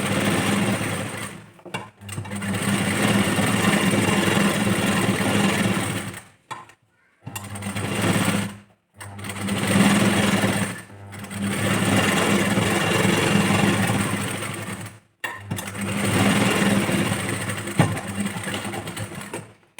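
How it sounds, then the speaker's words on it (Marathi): A domestic sewing machine runs stitches along a blouse sleeve in long steady bursts of motor whirring, with several short pauses between passes. "आपल्याला कंप्लीट स्लीव्जवरती स्टिच मारून घ्यायची"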